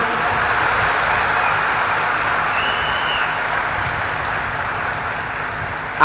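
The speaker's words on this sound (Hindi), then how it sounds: "एक बार ताली बजाओ झूम के।" A large audience claps together inside a devotional gathering tent, producing a steady, dense wash of applause that carries on evenly for several seconds.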